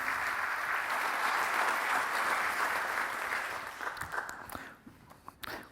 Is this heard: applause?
yes